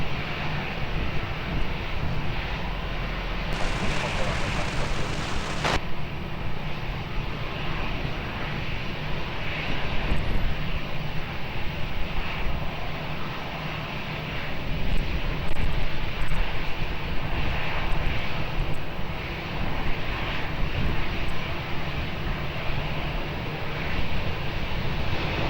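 A fixed-wing airliner takes off from runway 20 at Lisbon Airport, its engines roaring continuously and broadly at a moderate distance, swelling slightly in the middle, with wind noise buffeting the microphone.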